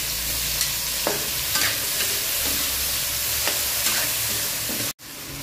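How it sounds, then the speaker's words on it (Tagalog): Tomatoes fry in a pan with golden brown onion and garlic, giving a steady loud sizzle. A few soft stirring scrapes break through the sizzle, and there is a brief dropout near the end. "Ngayong golden brown na ang sibuyas at bawang, ilagay ang kamatis."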